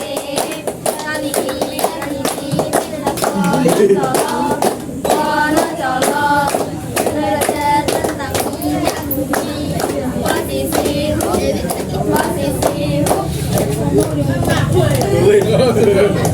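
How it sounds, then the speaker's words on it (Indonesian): A group of schoolboys on a class outing claps hands together in quick repeated bursts, loud and close, mixed with lively chatter and talk from the group throughout. "Yang cowok tepuk tangan ya, semangat."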